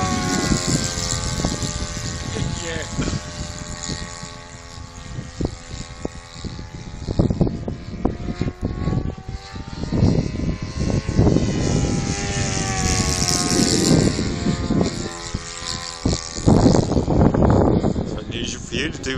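A Tucano turboprop flies low aerobatics over the Lydden circuit, its propeller engine droning and surging loudly throughout as it passes overhead, with people talking nearby.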